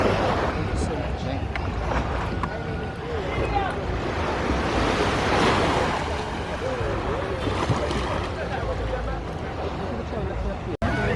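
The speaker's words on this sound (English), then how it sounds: "And here we are at the beach." Steady ocean surf rolls and washes onto a beach at St. Kitts, a continuous loud roar of breaking waves with some wind across the microphone.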